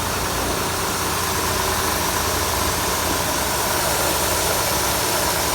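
A 1991 Cadillac Seville's 4.9-litre V8 runs at a steady idle with the hood up, giving a continuous close rumble with faint mechanical ticking and no pauses.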